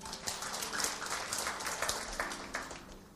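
Audience applause in a church or motivational gathering, a steady wash of many hands clapping at moderate distance, dense and even throughout with no voices over it.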